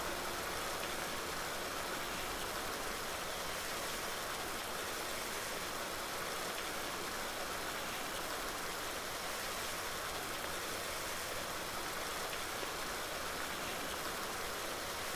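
A pressure washer in a farming video game sprays a tractor, a constant loud hissing rush that runs unbroken throughout.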